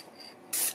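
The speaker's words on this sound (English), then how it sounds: "just a real quick spray like that, maybe" A Krylon Triple-Thick Crystal Clear Glaze spray can lets out one short, loud hiss of spray close by after a quiet moment, and the burst cuts off sharply.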